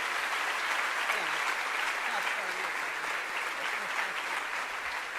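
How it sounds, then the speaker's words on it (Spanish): A church congregation at a Sunday service claps in strong, sustained applause, dense and loud throughout, with a voice faintly heard beneath the clapping. "Demos un fuerte aplauso en gratitud por cada uno de ellos."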